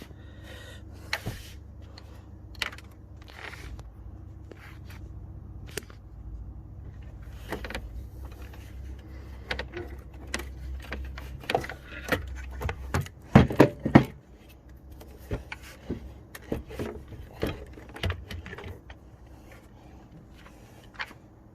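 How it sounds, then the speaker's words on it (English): An alternator pulled from a BMW M3 E90 engine bay, scattered metallic clicks, clunks and rattles of tools and parts at an uneven pace, with a louder cluster of knocks midway, close and with no talking. "And now we can take the alternator out."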